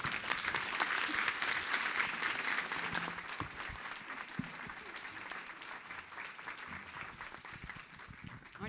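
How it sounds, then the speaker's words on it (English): Sustained audience clapping at a women's empowerment breakfast, a dense crackle of many hands that is loud at first and gradually thins. "Please give him a round of applause."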